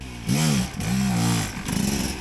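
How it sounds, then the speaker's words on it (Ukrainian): An enduro motorcycle engine is kick-started outdoors on a trail, giving three close, loud sputtering bursts that catch briefly and die away, with no talk heard. "Мені ще стартер тягнути на цьому мотоциклі"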